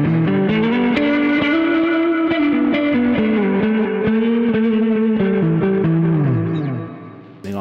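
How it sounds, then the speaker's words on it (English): A guitar on a pedalboard plays through a rotary cabinet effect, sustained chords and notes swirling with a warbling, swelling modulation, loud and continuous before fading at the end. "on mod 2, I have a rotary cab"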